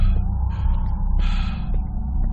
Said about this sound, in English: That is the weirdest snore I've ever seen.